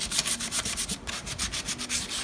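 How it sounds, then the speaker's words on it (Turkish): Rhythmic back-and-forth sanding strokes on a wooden chair, about ten quick rasping passes, close and steady with no talking. "Zımpara yapıyorsunuz."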